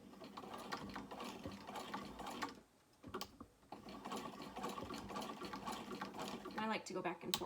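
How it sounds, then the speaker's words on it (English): A domestic sewing machine stitches a strap onto a small fabric crossbody bag, its rapid mechanical whir running in bursts with a brief pause midway, close and fairly quiet, with faint clicks between runs. "I'm just going to sew it on."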